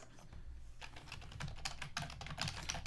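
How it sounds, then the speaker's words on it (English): A nearby player at a Magic: The Gathering Aether Revolt draft table typing on a computer keyboard, a quick irregular run of soft key clicks, close and quiet, with no voices. "I realized I have my camera over where my opponent's typing"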